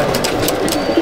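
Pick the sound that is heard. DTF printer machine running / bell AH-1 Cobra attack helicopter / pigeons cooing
pigeons cooing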